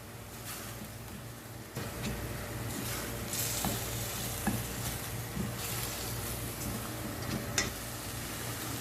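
Curry powder and black pepper fry in a pan for lentil dal, a steady sizzle with scraping stir strokes and occasional ticks running throughout, close and moderately loud with no talking.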